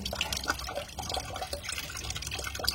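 Mustard greens are rinsed in water to remove insects, giving close, continuous splashing and sloshing with scattered drips and little bursts of trickling, running steadily without speech.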